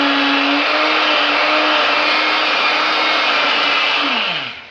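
A vintage 1950s electric drill runs at a loud, steady whine while its chuck is tightened down, the motor holding a constant pitch before slowing and dropping off at the very end.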